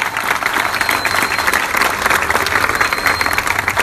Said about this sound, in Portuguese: Uma salva de palmas para o nosso homenageado, Júnior Viana.